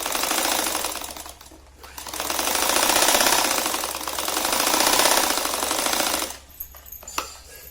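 Sewing machine running steady stitching along the edges of a traditional round sari, a rapid mechanical rattle in two long bursts with a short pause between, then stopping into a few light clicks and handling noises.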